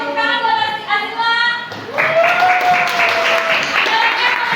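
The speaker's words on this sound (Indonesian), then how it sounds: "Kasih tepuk tangan buat Azila." A class of students claps for a classmate in a school lesson, a dense burst of applause starting after a short stretch of a voice, with voices sounding over the clapping throughout.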